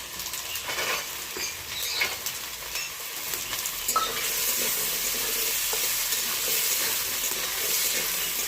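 Soaked chickpeas frying in a pan with potatoes and spices, a steady close sizzle broken by repeated scraping stirs of a spatula, growing denser and louder toward the end, with no voices.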